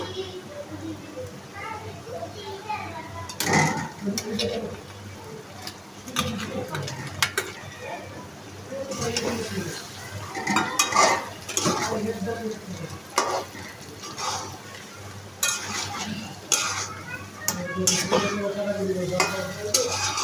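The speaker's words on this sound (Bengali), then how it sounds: "তো মশলার সঙ্গে মাছগুলিকে ভালোভাবে ছিঁড়ে একটু মিশিয়ে নিচ্ছি" Shrimp being stirred with spices in a frying pan. A steady sizzle is broken by scraping and clinks of a utensil against the pan, mixed with near, fairly soft stirring sounds while a person talks throughout.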